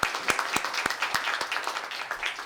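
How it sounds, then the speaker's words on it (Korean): Applause at a Seoul National University anniversary event as a speaker is welcomed, with distinct sharp claps standing out over a thinner background of clapping from a modest crowd. "큰 박수로 맞이해 주시기 바랍니다"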